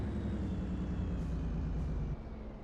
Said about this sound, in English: This truck is just super loud.